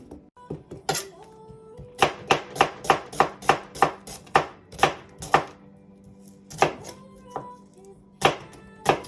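An onion is chopped with a knife on a board, about a dozen crisp, sharp knocks in a quick, slightly uneven rhythm with short pauses, close and clear with no talking.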